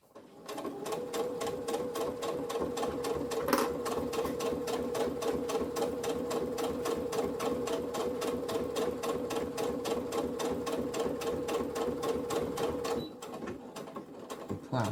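A sewing machine stitches a back stitch in one continuous, even, rapid whirring run that lasts most of the time, then cuts off near the end, leaving brief quiet handling.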